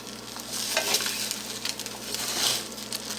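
Eggs frying in a cast iron pan: a steady, moderately quiet sizzle with crackling pops throughout, no talk.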